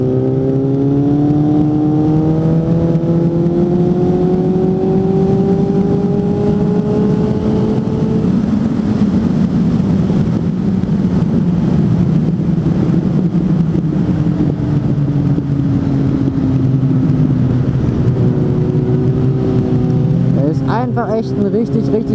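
Suzuki GSF 600 N four-cylinder motorcycle riding at steady speed, its engine droning and shifting pitch through gear changes, with wind noise throughout and a rider talking over it.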